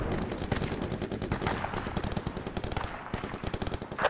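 Rapid gunfire in the Project Reality WW2 game on an Omaha Beach D-Day map, dense overlapping bursts of shots, loud and continuous throughout.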